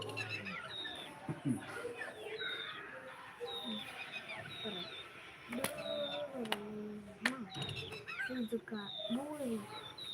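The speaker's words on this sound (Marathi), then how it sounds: "पक्ष्यांचा आवाज वगैरे झाडावरती" Many birds chirp and call in varied, overlapping whistles outdoors, with people talking faintly in the background.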